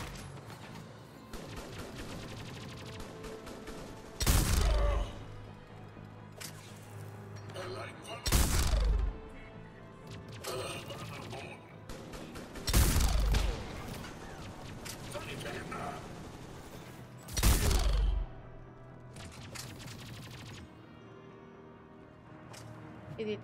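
Enemy gunfire in the sci-fi shooter game Mass Effect 3, coming in four loud, heavy bursts a few seconds apart over continuous battle noise and game sound.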